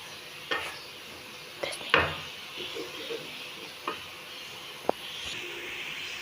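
Golden fried onions being lifted out of hot oil in a pan for chicken biryani, a low sizzle under several soft scraping and clinking utensil touches, quiet and close with no talking.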